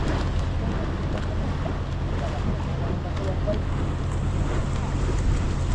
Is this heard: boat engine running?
yes